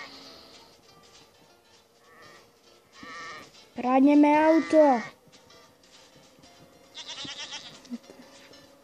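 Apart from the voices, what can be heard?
goat bleating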